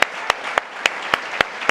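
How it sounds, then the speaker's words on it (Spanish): A church congregation claps in steady unison, sharp beats about three per second over a dense bed of ongoing applause, close and loud. "Démosle un aplauso al que está en medio de nosotros."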